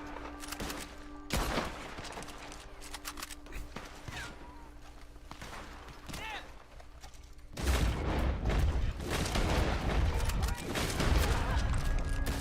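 Scattered gunshots from a firefight against NPCs in the online western game Red Dead Online, including bolt-action rifle fire, mostly moderate in level with one sharp early crack and a louder, busier stretch of shooting in the second half.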